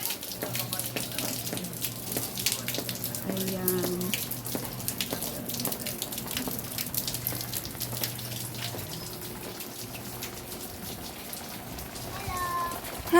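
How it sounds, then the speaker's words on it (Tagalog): Heavy rain pours steadily on a surface, a dense constant patter close by, while a person speaks briefly over it. "ayan, ang ulan."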